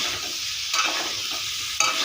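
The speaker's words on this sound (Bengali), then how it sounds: "এখন দেবো একটু খুন্তি দিয়ে নাড়া।" A spatula stirs potol curry frying in a pan, a continuous bright sizzle with two sharper scraping strokes, close and clear, no voices.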